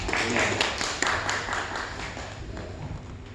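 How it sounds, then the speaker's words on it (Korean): A Korean Baptist church congregation gives welcome applause during a Sunday service, a moderate spread of clapping from the room that slowly thins out. "어준 집사님 가정 다시 웰컴 환영 박수합니다"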